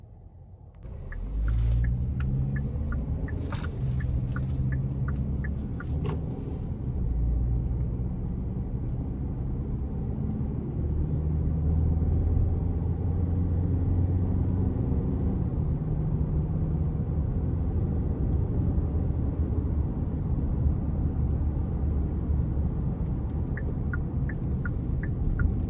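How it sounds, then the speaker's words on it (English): A 2022 Hyundai Santa Fe SEL SUV with a 2.5L engine cruises on the road, a steady low engine and road rumble heard from inside the cabin, with a few faint clicks early on. "next we're gonna go ahead and take this Santa Fe out on the road for a quick test drive"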